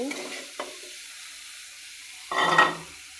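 Fish goes into fried spice paste in a pan, a soft sizzle with a short scrape, then a louder burst of hissing frying near the end, close by.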